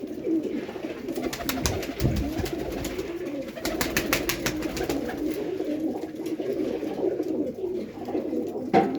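Pigeons coo repeatedly in soft, low, rolling calls, with several birds overlapping over a steady background hum and some faint rustling.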